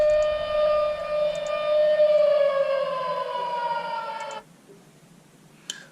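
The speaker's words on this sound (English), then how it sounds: "So that is our anchor alarm" An anchor alarm aboard a trawler in Alaska gives off a loud continuous electronic siren tone that slowly sags in pitch and then cuts off abruptly, leaving quiet room noise and one faint click.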